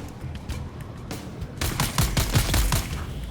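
Karpov 38 machine gun firing in the Dune: Awakening video game, a rapid burst of several close, loud shots following a quieter stretch.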